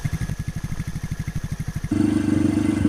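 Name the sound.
motorcycle riding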